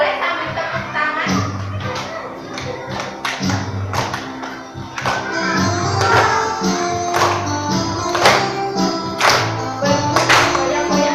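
A group of people at a classroom activity claps along to a sung song about diversity, with irregular rhythmic claps and thumps over music and voices, loud and close.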